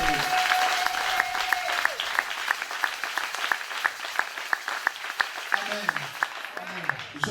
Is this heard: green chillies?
no